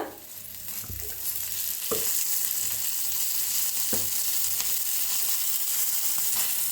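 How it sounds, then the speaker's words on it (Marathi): Oil crackles and sizzles loudly in a pan while red chilies are roasted for a village-style thecha. A steady hiss carries a few spatula knocks scattered through it, up close with no speech. "तेल ओतून बी मिक्स करून भाजूया"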